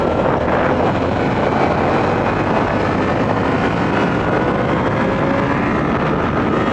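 A Yamaha FZ-07 motorcycle engine drones steadily during a demo ride, its note slowly rising under heavy wind rush, constant and loud with no talking.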